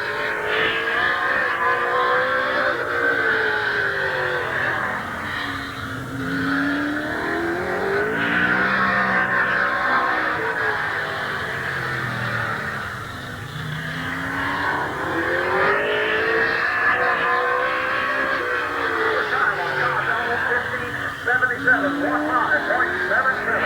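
Race cars roar around Midvale Speedway at the Fall Classic, engines rising and falling in repeated waves as they pass, with a public-address announcer talking over the loud track noise throughout.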